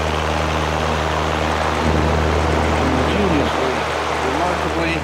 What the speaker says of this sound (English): the three blade cast aluminum airfoil backward incline design on a ring frame fan